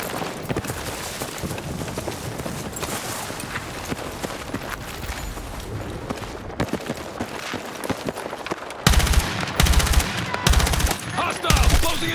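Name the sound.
gunfire in a firefight, from the video game Battlefield 6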